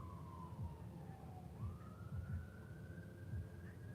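Wailing emergency vehicle siren sweeping down then rising and holding a steady tone, moderately loud over a low rumbling traffic background, with no talking.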